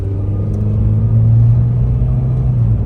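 A VW Beetle with an 01M automatic transmission pulls in second gear, its engine drone low and steady from inside the cabin, a mild rising hum with no talk.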